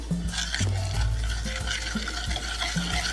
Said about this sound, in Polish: I znowu mieszamy. Mieszamy.